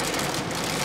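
Steady rain drums on the roof of a car during a rainy night of camping inside it, a dense continuous hiss filling the short stretch with no voices.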